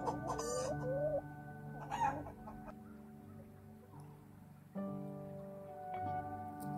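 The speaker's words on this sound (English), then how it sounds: "hen," A hen clucks in a few short bursts over a sustained musical backing, faint overall.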